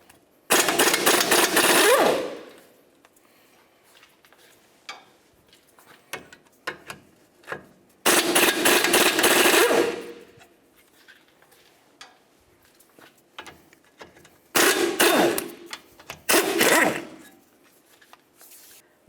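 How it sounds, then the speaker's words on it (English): A ratchet wrench with a 17mm socket removes the control arm ball joint bolt and nuts on a 2007-2011 Toyota Camry, several bursts of rapid clicking separated by quieter handling noises. "Let's go ahead and remove the bolt first, and then we'll remove both of these nuts using a 17mm."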